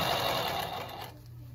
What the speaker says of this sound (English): A great sewing machine by Consew.